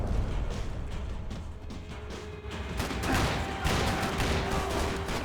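Bursts of gunfire from guns in Max Payne 3 ring out in dense, rapid volleys, loud and continuous, with harder clusters of shots toward the end.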